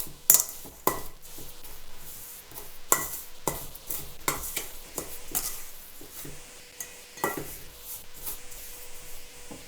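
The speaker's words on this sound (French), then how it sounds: "je vais prendre une grosse cuillère et je vais bien mélanger" A big spoon stirs creamy chocolate chip cookie dough in a bowl, giving repeated close scraping and clinking strokes with no talk.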